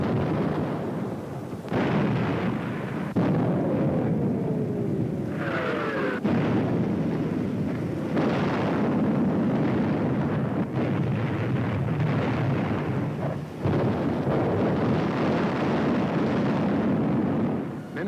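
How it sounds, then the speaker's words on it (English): Mortar and artillery fire around San Pietro near Mount Lungo in wartime: continuous loud rumbling explosions and blasts with rough, roaring bursts and a whistling shell sound, dense and unbroken throughout. "Mortar and artillery were deadly accurate by reason of excellent enemy observation from Mount Lungo"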